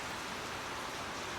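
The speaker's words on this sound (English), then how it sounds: "listening as the rain softened to a quiet patter around them" Soft, steady rain patters evenly in a gentle continuous hiss, quiet and unbroken with no voices.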